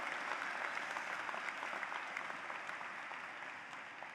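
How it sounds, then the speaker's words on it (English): Crowd applause for the class of 2022 at a Harpur College of Arts and Sciences commencement ceremony, a steady wash of many hands clapping, moderately distant, gradually tapering toward the end. "Let's give a big round of applause to the class of 2022."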